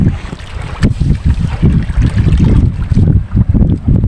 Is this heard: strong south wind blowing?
yes